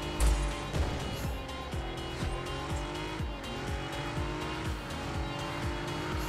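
Race car tires locking and squealing under hard braking in the Super Street racing game, repeated engine pulses and sustained screeching skids over a constant engine drone, with no talk.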